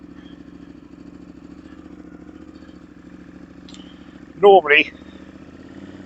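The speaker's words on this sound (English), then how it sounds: "I start the bike up and let it warm up." A KTM motorcycle engine idling as it warms up early in the morning: a steady, rhythmic low thrum close by, briefly interrupted near the end by someone speaking over it.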